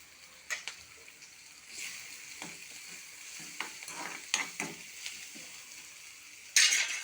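Curry leaves drop into hot oil and sizzle softly, with intermittent stirring scrapes and small clinks of a utensil against the pan, ending in a sharper burst of crackling.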